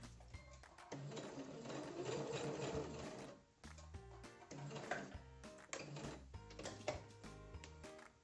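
A sewing machine stitches to the end of a piece of fabric in rapid mechanical bursts, running steadily, pausing briefly, then starting again in shorter runs, close and clear with no talking.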